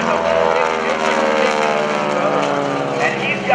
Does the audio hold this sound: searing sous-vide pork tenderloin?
no